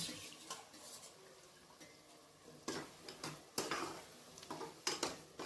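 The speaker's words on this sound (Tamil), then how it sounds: "நல்லா மசாலாவோடு சேர்த்து மிக்ஸ் பண்ணி எடுத்துக்கோங்க" Boiled white chickpeas being mixed into masala in a pan, quiet spoon scrapes and metallic clinks coming in irregular bursts against a faint background.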